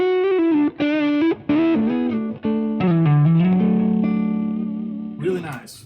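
Electric guitar played through a parametric EQ for a dark tone, loud distorted chords and sustained notes with effects and reverb, strummed in short bursts then held, close and alone.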